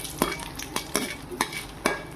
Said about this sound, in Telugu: తాలింపు గింజలు డైరెక్ట్గా వేసాను